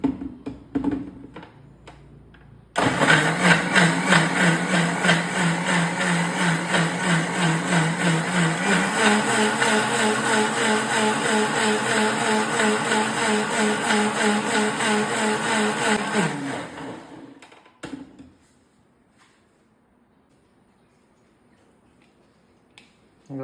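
A kitchen blender whirs steadily for about fourteen seconds as it blends avocado and dates into a milkshake, then winds down to quiet. A loud, close, continuous motor drone runs throughout.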